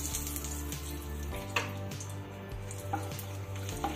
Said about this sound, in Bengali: ফোড়নটা একটু ভেজে নিচ্ছি